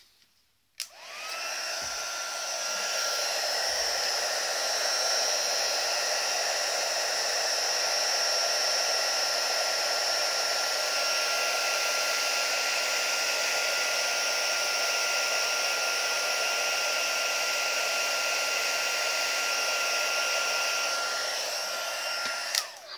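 An embossing heat tool whirs steadily for about twenty seconds at close range, its loud, even blowing hum melting gold embossing powder, starting and stopping with clicks and no talk.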